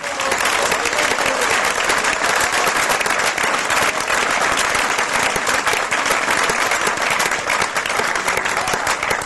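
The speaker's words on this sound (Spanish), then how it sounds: "Denle un aplauso al Señor" Church congregation breaks into loud, sustained applause, dense clapping that fills the whole stretch at steady intensity with scattered voices mixed in.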